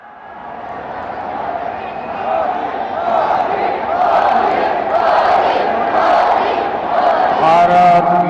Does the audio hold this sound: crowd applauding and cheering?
yes